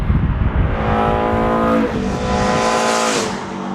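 A BMW E30 M3 engine revving hard and high toward 7,000 rpm, loud and close, the pitch climbing, dipping briefly, then climbing again.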